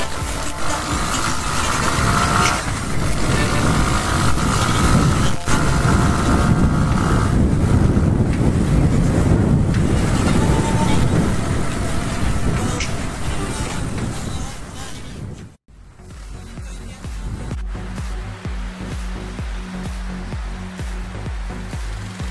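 A Keeway Cafe Racer 152 motorcycle with a 16-48 sprocket accelerates along Ortigas Avenue. Heavy wind rush masks the engine for most of the run, then after a brief drop a steadier engine drone comes through.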